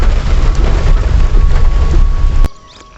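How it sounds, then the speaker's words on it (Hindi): Heavy monsoon rain pours down steadily at Bhimtal in the hills, a dense close roar with low rumbling, cutting off abruptly near the end and leaving quiet. "मज़ेदार बारिश, ये भीमताल भर गया है।"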